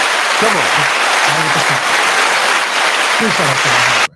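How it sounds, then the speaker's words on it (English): A round of applause from a small group, dense steady clapping that fills the clip at even loudness, with voices talking and calling out over it before it cuts off abruptly at the end. "Round of applause for this, man."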